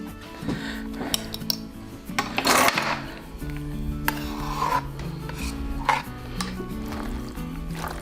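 Imitation crab meat salad with shrimp gets mixed in a bowl, giving repeated soft scraping and rubbing strokes with occasional clinks, close and moderately loud over a steady musical backdrop.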